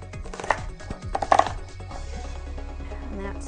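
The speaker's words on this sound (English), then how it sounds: "So the first thing we have to do is slice our onion." A knife slices an onion into thin half moons on a board, a few close, uneven cutting taps and thuds in the first second and a half, then a quieter background.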